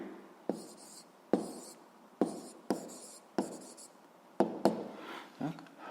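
A pen writes an answer on paper in a sixth-grade maths exercise, quick scratchy strokes with sharp taps at the start of each, close and quiet, several in a row.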